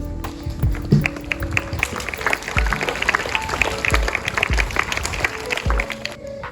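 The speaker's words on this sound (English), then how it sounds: "Let's give them a warm round of applause" A school audience applauding judges at a convent school eco club event, dense close clapping filling the room steadily throughout, with scattered thumps underneath.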